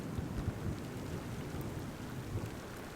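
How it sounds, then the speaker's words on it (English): Heavy rain pouring down in a dense, continuous roar with low rumbling beneath, steady and enveloping with no voices. "Soon, the symphony of rain roars from the heavens"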